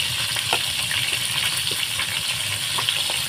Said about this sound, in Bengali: এইভাবে দিয়ে পেঁয়াজটাকে একটু বাদামি করে ভেজে নেব।